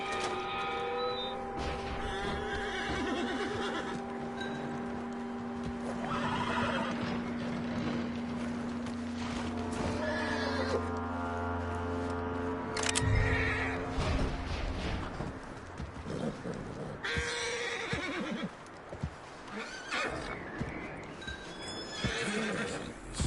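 Horse neighs and whinnies with clip-clopping hooves in the Red Dead Redemption II video game, loud and close over a steady ambient background, with a surge of activity midway.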